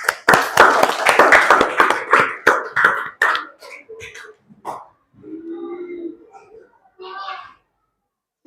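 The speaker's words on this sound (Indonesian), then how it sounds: "Tepuk tangan dulu untuk kelompok 1." A classroom group claps in a quick, rhythmic burst of sharp claps lasting a few seconds for a student group about to present, then the clapping stops and voices follow.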